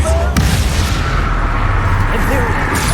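Incendio fire spell cast in Hogwarts Legacy, a sharp blast at the start followed by a dense, roaring rumble that fills the clip, loud and close, with a voice calling out over it.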